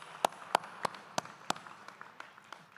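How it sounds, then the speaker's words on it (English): Audience at a law school commencement ceremony claps, scattered sharp claps over a soft hall murmur, moderately distant and fairly light. "Yes, that's worth an applause, don't you think?"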